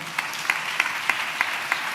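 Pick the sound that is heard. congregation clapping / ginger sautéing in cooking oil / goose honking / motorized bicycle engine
congregation clapping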